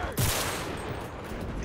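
A single sharp gunshot in the World War II shooter game Enlisted, followed by a rumbling echo and steady battlefield background noise.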